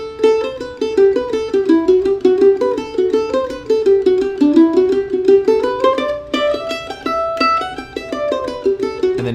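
Mandolin picking out a tune's melody in quick, bright plucked notes, close and clear, with rapid repeated tremolo-like runs that climb higher near the end.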